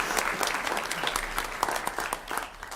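Applause at a school board meeting for a second grade art winner, a moderate crowd clapping steadily with crisp individual claps audible, close and continuous, tapering slightly toward the end.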